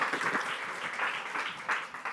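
A conference audience applauds, with dense, steady clapping filling the room for a couple of seconds.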